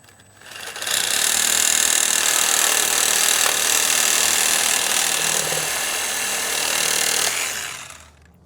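A Sawzall reciprocating saw cuts through metal on a cheap crashed truck, a loud, close, continuous buzzing rasp that starts abruptly, holds for about seven seconds with a slight dip in pitch, then stops.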